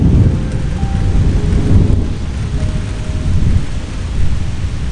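Steady heavy rain with rolling thunder rumbling through it, a continuous close downpour with deep low booms swelling and fading, no voices.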